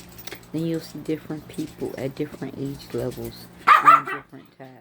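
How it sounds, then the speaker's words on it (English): A pet dog barks in a few quick, loud bursts close by, cutting in over a person's steady talking. "Apologize for my dog."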